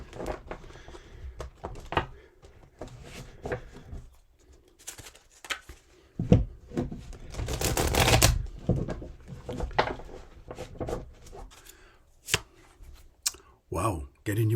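Tarot cards being shuffled by hand, soft riffling and patting bursts coming and going, with one longer dense riffle in the middle, close and quiet, mixed with some talking.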